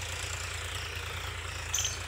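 A Powertrac Euro 50 tractor runs in a field being ploughed after the maize harvest, its engine giving a steady, low, throbbing rumble at moderate distance, alone and without talk.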